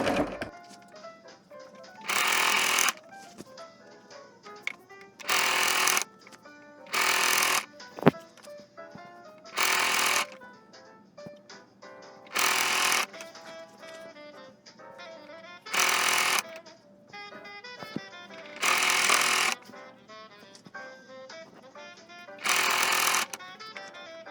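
Short, loud bursts of machine stitching along the hem of a dress, about eight separate runs spread out with quiet gaps and small handling knocks between them.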